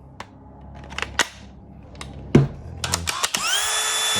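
A battery pack slides and clicks into a DeWalt FlexVolt DCD999B hammer drill/driver: scattered plastic taps and clacks, one sharp latching click, then a brief high whirring tone at the end, close and without talk.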